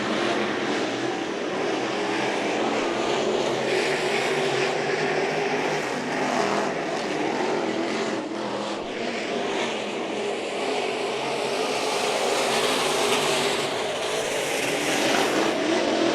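IMCA modified race cars battle for the lead at Santa Maria Raceway during the 2019 Nationals, a steady, loud engine roar from the pack that holds throughout and swells slightly as the cars pass.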